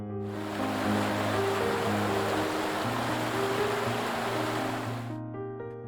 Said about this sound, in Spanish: El sonido se escucha mucho antes de ver la cascada